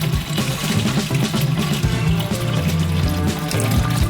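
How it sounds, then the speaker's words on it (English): A balloon is filled with water, making a continuous pouring, gushing rush beneath steady background music. "Therefore, we fill up a balloon with water."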